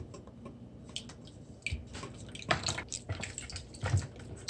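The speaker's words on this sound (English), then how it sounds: "Also the butter, 1 ounce of melted butter." Melted butter, an ounce of it, is poured into a dough mixture for Easter spice buns, heard as soft wet drips and squishy splatters, faint and close with a few louder plops.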